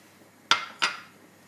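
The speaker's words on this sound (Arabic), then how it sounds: "حطيت طنجرتي تسخن على الغاز باش نحط الزيت" A metal cooking pot is set down on a gas stove before oil is heated. Two sharp metallic clanks land close together, close and clear, with near silence around them.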